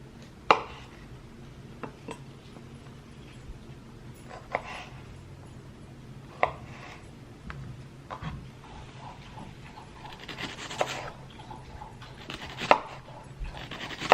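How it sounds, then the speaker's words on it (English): Vegetables being diced and sliced on a cutting board, heard as sharp, scattered knife chops at irregular intervals over a quiet room background, close but fairly soft. "So I just kind of prepped everything, diced up and sliced the vegetables"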